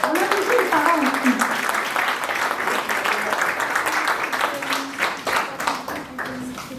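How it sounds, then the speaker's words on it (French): An audience at a youth council special session applauds, dense steady clapping that holds for several seconds under a few voices and gradually thins toward the end. "Ben oui, on vous applaudit."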